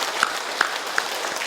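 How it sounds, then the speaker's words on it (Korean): Brief scattered applause from a church congregation during a service, faint and thin over a low room hum, with no talk. "우리 위로의 박수 한번 쳐주시면 고맙겠습니다"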